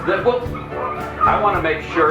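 A team of sled dogs in Alaska barks and yips excitedly in overlapping bursts, close by and steady throughout, while a person talks over the noise.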